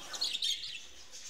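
High, thin chirping from several budgerigar chicks, a busy overlapping twitter that keeps going steadily at moderate loudness.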